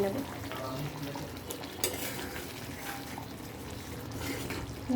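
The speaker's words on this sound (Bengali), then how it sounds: "ভালোভাবে নেড়ে আমি নামিয়ে নেব।" Doi katla fish curry stirred in a pan, a quiet low bubbling and scraping with a soft spoon clink, muffled and fairly faint throughout.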